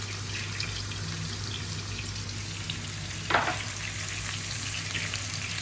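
Garlic, onion and other aromatics sautéing in butter as a base for sisig, a steady close sizzle and crackle running throughout, with a brief stir or clatter about midway.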